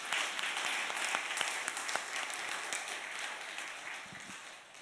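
A church congregation claps together, a soft, fairly distant patter of many hands that swells briefly and then gradually thins out and fades.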